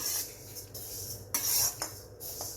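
Toor dal dry-roasted in a pan over a low flame, a spatula scraping and stirring the lentils with soft metallic rasps and clinks in irregular bursts.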